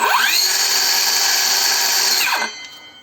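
A SHIDOKU cordless handheld circular saw switches on, its motor whining up to a steady high-pitched spin, running loud and alone for about two seconds before winding down.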